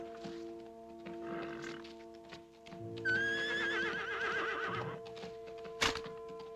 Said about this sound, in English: I say it's an horse coming up at a canter, Joe.